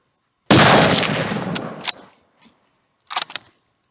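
Gunshots during a bear hunt: one loud close blast rings out and decays over more than a second, followed by a faint pop and a quicker double crack a moment later.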